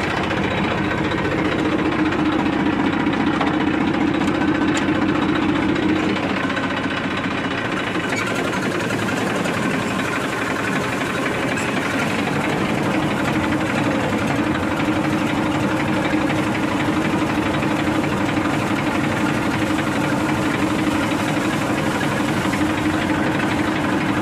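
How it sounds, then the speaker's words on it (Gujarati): A farm tractor that was started with a homemade jugaad runs steadily during a millet harvest, its diesel engine giving a loud, close, continuous knocking chug with a slight shift in tone partway through and no talking. "તો જો ભાઈ આપણે ટ્રેક્ટર દેશી જુગાડેથી ચાલુ કરી લીધું"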